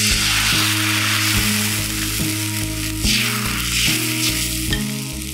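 Watery dosa batter sizzling loudly on a hot pan, a dense crackling fry with a steady low hum underneath and a few brief scraping touches, close up and without talk.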